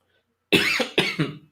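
Two sharp coughs in quick succession, close and fairly loud, after a moment of silence.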